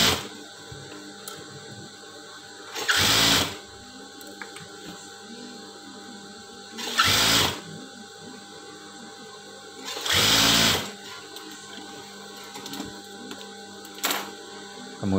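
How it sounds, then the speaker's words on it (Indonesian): A sewing machine stitches the side seam of a shirt that has been shortened, running in short steady bursts of rapid mechanical whirring separated by pauses, close and clear with no talking. "Kemudian kita jahit sampingnya ya"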